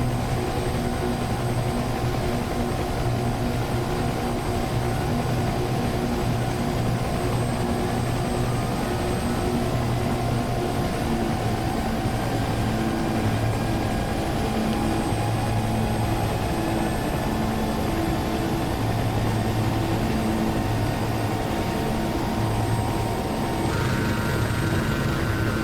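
Mi-24 helicopter in a video game, a continuous droning rotor and turbine roar with a rhythmic low thump, steady and loud throughout with no talking.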